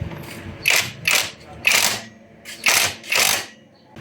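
A ratchet wrench tightening a screw on an RCB R55 rear disc brake caliper fitted to a Honda Click 160 scooter, five close, crisp clicking bursts with short pauses between them.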